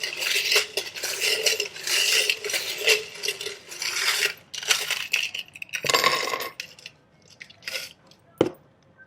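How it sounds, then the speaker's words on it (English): Metal tarot charms being pulled out and handled, loud jangling clinks and rattles in rapid bursts, close up, with a few sharper clacks near the end and no talking. "pull out some charms really quick, and then you guys can go ahead and turn down your volume because it does get a little loud"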